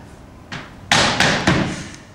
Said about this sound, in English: Is that the door? Could you get that?